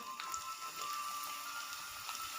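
Chicken macaroni spring rolls fry in hot oil on a stove, giving a steady, dense crackling sizzle like light rain that continues evenly and fairly quietly, with no talk.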